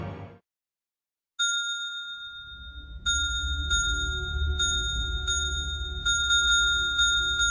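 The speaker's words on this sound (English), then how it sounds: "Would you stop ringing that bell" A small desk bell dinging repeatedly, bright metallic rings coming in irregular bursts, some rapid pairs, close and clear over a low background hum.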